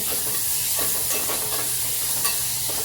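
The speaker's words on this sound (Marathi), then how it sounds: "यामध्ये आता बारीक चिरून घेतलं टॅमॅटो घालून घेऊया पोळी पण परतून घेऊ" Chopped tomatoes frying in a hot pan with oil, a steady loud sizzle and hiss with soft scraping stir strokes throughout, no voices.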